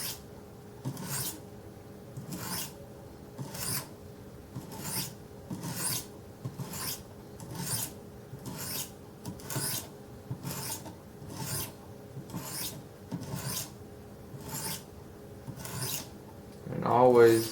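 Wicked Edge sharpening stones stroke up a knife blade in a steady rhythm, about fourteen raspy scrapes a little over a second apart, close and fairly quiet, ending in a louder scuff.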